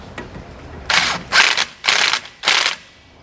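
A ratchet snugging fasteners during the install of a Roadmaster rear anti-sway bar on a 2015 Thor Four Winds Super C motorhome, giving four loud, close bursts of rapid clicking separated by short pauses.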